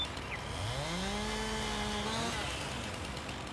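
A chainsaw in the video game Farming Simulator 19 felling small trees, its engine revving up and rising in pitch, holding briefly, then falling away, heard alone without talk.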